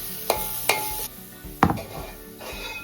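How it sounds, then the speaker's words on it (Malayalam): Onions with turmeric sauté in a pan for a prawn theeyal curry. A spoon scrapes and clacks in a few sharp strokes over a soft, steady sizzle, with no talking. "അപ്പോൾ ഇനി ഒരു ശകല മഞ്ഞൾപ്പൊടിയും കൂടെ ഇതിനകത്ത് ഒന്ന് ചേർക്കാം. എന്നിട്ട് നന്നായിട്ടൊന്ന് വഴറ്റിയെടുക്കാം."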